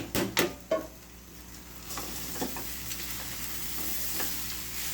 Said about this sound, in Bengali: এলাচ দারচিনি দিয়ে ফোড়ন দিয়ে তারপরে এটা ভেজে নিচ্ছি।